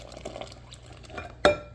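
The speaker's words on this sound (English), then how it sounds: "I'm going to go ahead and I'm going to pour this in." Faint liquid movement and soft clinks, then a single sharp, close splash-clink as bloomed yeast mixture is poured into a bowl while making cinnamon raisin bread.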